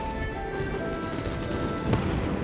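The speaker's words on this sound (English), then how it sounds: "I feel like that's his firework or something." Fireworks burst in Genshin Impact with a steady crackling rumble of distant pops. One sharper, louder blast lands near the end, with faint tonal game music in the background.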